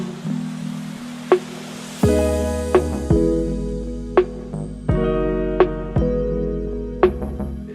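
Chill beat drop produced in Logic Pro X, with a booming low bass entering under airy, washy pads and regular punchy percussive hits keeping a steady, relaxed rhythm at full loudness.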